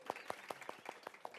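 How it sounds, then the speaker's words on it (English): A small audience at a makeup lesson gives a brief round of applause for a volunteer model, a faint, sparse clapping with distinct individual claps in an uneven rhythm. "Give Sarah a round of applause."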